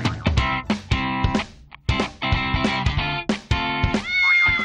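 A pet cat in Talisay City, Cebu meows in a rapid series of loud, close, drawn-out cries, some rising into long wails, with no other voices.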